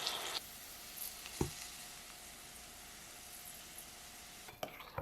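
Carrots cooking in a covered pan give off a soft, steady sizzle, faint and continuous, with a few light clinks and taps of the lid or utensils near the start and end.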